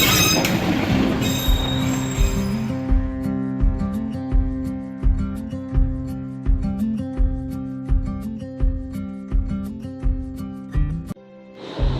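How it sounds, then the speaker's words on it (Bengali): A Kurseong toy train rolls slowly past nearby, with rhythmic wheel clunks over rail joints, sustained metallic wheel squeal and a droning engine tone that ends in a final thump. "একটা টয় ট্রেন সামনে থেকে আসছিল। স্লো স্পিডে একটা নস্টালজিক ভাইব নিয়ে টয় ট্রেনটা কুকুর করে চলে গেল সামনে।"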